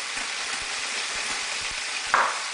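Meat rolls browning in a pan with the garlic just taken out, a steady soft sizzle that runs throughout, with a brief louder crackle near the end.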